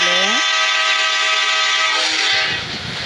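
A real train passes on a railway track beside a house, its horn opening with a rising blast before sustained, loud tonal whine and rumble of the passing wagons, fading slightly at the end.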